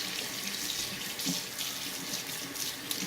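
Water running steadily from a sink tap for handwashing, a close, continuous hissing stream with slight splashing, alone without talk.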